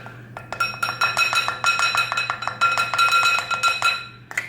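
A utensil stirs a menthol mixture in a hard container, making a quick, steady series of bright clinking taps against the sides, close and fairly loud over a low background hum.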